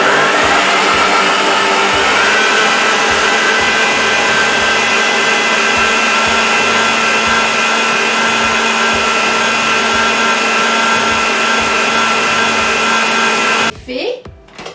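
Electric mixer whirring through chocolate cake batter, a loud, steady motor whine with a rhythmic low beat from the beaters, running nonstop for most of the time before it cuts off near the end.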